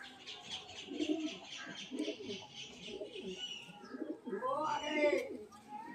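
Pigeons coo softly and repeatedly at close range, their low throaty calls overlapping while someone talks over them.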